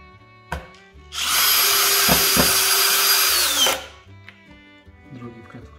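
A power drill drives a screw into a wooden mason bee house, a steady loud whir lasting about two and a half seconds, with a few light knocks and handling sounds before and after.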